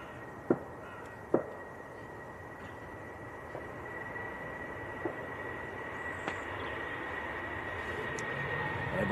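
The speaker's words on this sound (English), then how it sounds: "British Airways on the roll down to Heathrow." A British Airways airliner rolls for takeoff at Manchester Airport, heard as a faint, distant rumble that slowly swells, with a few sharp clicks nearby.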